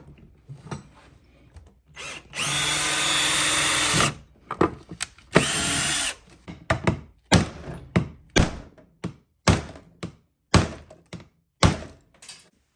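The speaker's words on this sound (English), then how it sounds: "I'm just going to drill these holes now and hopefully it works" A power drill whirs steadily for a couple of seconds while drilling holes in a trolling motor mounting plate on a kayak, followed by a series of sharp, separate thunks and taps at a roughly even pace.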